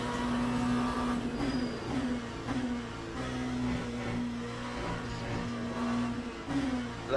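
A race car engine in Le Mans Ultimate drones steadily at high revs, rising and dipping slightly between gear changes, loud and close with no other sounds on top.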